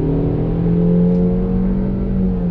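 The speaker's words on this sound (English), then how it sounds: "you do have that high drone when you do lay the throttle down" A 2020 Honda CR-V Touring AWD with a CVT accelerates under throttle, holding a loud, steady, high engine drone with no gear changes, heard from inside the cabin with no talk.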